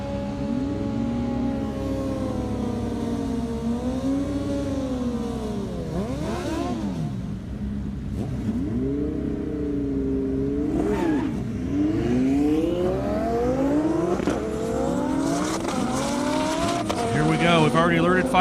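Drag racing car accelerating hard down an airstrip, engine note climbing through repeated gear-change sweeps, loud and sustained, with a commentator talking over it throughout.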